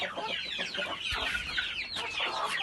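Chickens and young chicks on a small poultry setup, producing a steady chorus of soft, close clucks and chirps throughout, with no talking.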